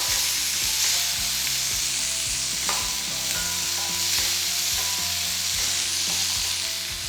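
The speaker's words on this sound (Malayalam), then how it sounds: "ഒരു 2 മിനിറ്റോളം ഒന്ന് സോട്ട് ചെയ്യുക." Tomato sautés in a hot pan for a vegetable masala, a steady close sizzle with frequent scraping stirs of a spoon, no voices.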